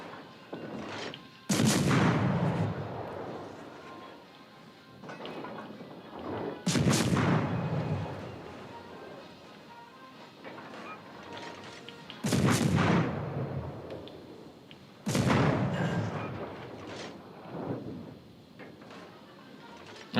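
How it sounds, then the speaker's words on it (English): Four heavy booming salvos of naval artillery in a warship video game, each a sharp loud blast trailing into a long rumbling decay, spaced several seconds apart over a low steady background. "Some very effective blind firing by the enemy team"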